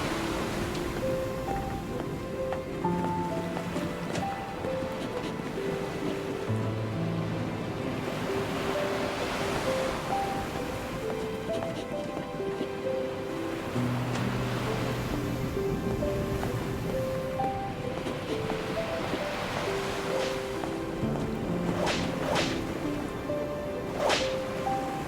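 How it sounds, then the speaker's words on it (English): Rough ocean waves surge and wash around a ship at sea in the game NieR Reincarnation, a steady broad roar of surf and wind lasting throughout, layered under soft musical tones. "Fighting against the turbulent waves, the boy runs to the bow of the ship."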